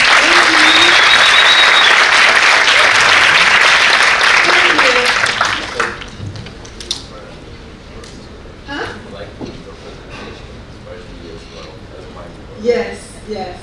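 Audience applause at an event on AI, innovation and economic growth in the Americas, a loud, close burst of many hands clapping that lasts several seconds and then drops away, leaving quiet room noise with scattered faint sounds.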